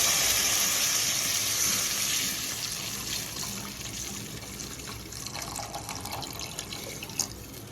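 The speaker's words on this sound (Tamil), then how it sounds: "நீங்கள் சேமியா வைக்கிறதுக்கான தண்ணி ஆட் பண்ணிடலாம்." Water poured into a pan for cooking vermicelli, a steady gushing splash that starts loud and settles into a softer rushing flow with a few drips and a small clink near the end, with no talking.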